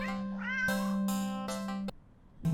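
A cat in the video game Do NOT Take This Cat Home lets out a few drawn-out, clear meows in quick succession, loud and close with no talk over them.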